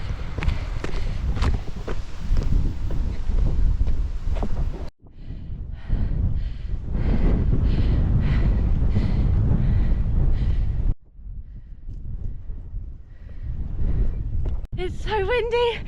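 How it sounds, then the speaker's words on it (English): Heavy wind on the Seven Sisters cliffs buffets the microphone in loud, gusty rumbling bursts, broken by short drops, with a voice briefly heard near the end. "It's so windy, and I'm not even up the top."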